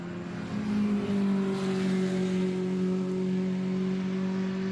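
A leading Sports 2000 race car passes on track at VIR during an SVRA Sunday race, its engine holding a steady sustained tone that swells as it approaches and stays loud throughout, with no talk.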